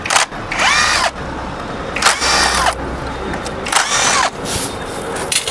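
Pneumatic impact gun with a socket loosening the load-wheel screws on an MK clutch assembly, heard as four loud, close, rattling bursts separated by short pauses.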